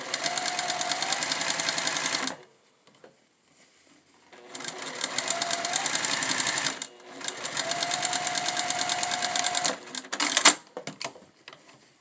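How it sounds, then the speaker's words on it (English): A sewing machine stitching a seam on a fabric face mask runs in three close, steady whirring bursts separated by short pauses, with a faint fabric rustle near the end. "sew this seam, you turn it like this, and you have to sew on the inside"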